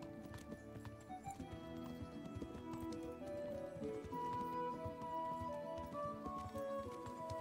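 Horse hooves galloping in the medieval video game Kingdom Come: Deliverance, a steady rapid clip-clop running throughout over layered tonal game sound.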